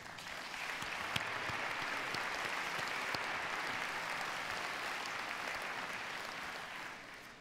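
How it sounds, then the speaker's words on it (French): An audience at a mayors' gathering applauds François Deluga, a dense, even wash of clapping that holds steady for several seconds and eases off at the end. "qu'on applaudisse François Deluga"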